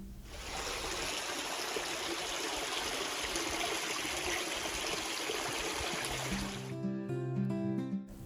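Water at the Krushuna Waterfalls in Bulgaria rushes as a dense, steady roar for most of the clip, then cuts off sharply and gives way to a different tonal sound near the end.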